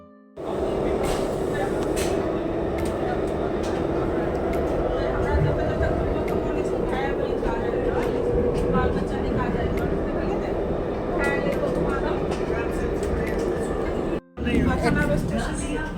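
Steady rumble and hum inside a moving Namo Bharat rapid rail train in India, continuous and fairly loud throughout with a brief dropout near the end, voices talking faintly in the carriage.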